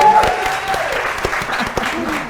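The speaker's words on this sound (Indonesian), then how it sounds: "Tepuk tangan untuk kedua tim." A studio audience on a quiz show applauds both teams, a brief burst of clapping with a voice briefly audible at the start.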